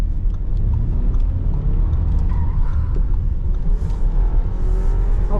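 Audi Q5 taking a corner, its engine and tyre noise a steady low rumble with slight rising revs, heard alone without talk.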